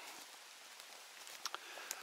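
Rain falling in a forest on a wet Sunday mushroom hunt in Świętokrzyskie, a steady soft patter with a few sharper drops tapping nearby.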